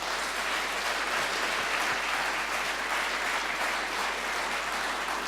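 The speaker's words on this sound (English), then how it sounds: "Ich denke, dafür allein eigentlich schon einen riesigen Applaus." Convention audience applauding, a dense, steady wash of many hands clapping that holds at an even loudness from start to finish with no voices standing out.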